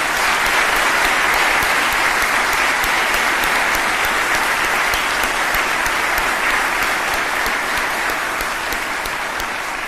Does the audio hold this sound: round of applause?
yes